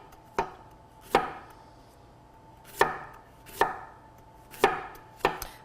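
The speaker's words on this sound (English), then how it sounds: "we're just going to do some nice thin slices of our fennel." A knife cutting thin slices of fennel on a board, seven crisp separate chops at an uneven pace, close and clear against a quiet room.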